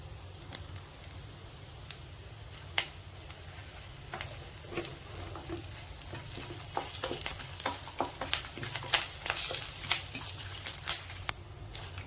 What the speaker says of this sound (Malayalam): അപ്പോൾ ഇതൊന്ന് വറുത്തെടുക്കാം ആദ്യം